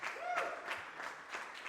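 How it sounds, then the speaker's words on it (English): Audience at a comedy show clapping, a short burst of scattered, fairly faint applause from a crowd in a room, with a voice speaking over the clapping. "Everyone, give a round of applause to these people."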